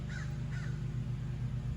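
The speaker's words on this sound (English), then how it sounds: "We have crows joining us." Crows caw overhead near a porch in two quick bursts of harsh calls, a steady low hum running beneath them.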